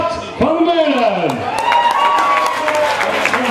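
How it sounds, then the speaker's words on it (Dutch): Crowd applause and light cheering at a women's elite cycling race podium rumble beneath a loud voice speaking Dutch through an amplified system, with clapping continuing throughout. "uw applaus voor Kaat van Meulen"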